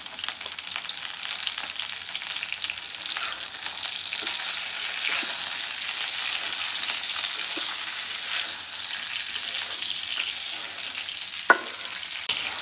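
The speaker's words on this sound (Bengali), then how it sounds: "শুধু লবণ দিয়ে ভেজে নেব" Okra fries in oil with salt for a tomato-lentil dish, giving a dense, even sizzle that holds steady throughout, with faint stirring and one brief knock near the end, no talking.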